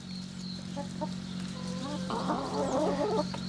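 Chickens clucking in a group nearby, with short intermittent clucks rising into a busier flurry of calls over a steady low background hum.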